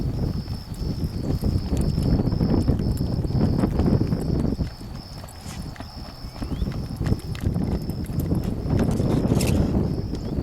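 Hooves of the horse Edmond Dantes clip-clop in a steady, close walking rhythm during a ride, loud and continuous, with a thin whistling tone running above.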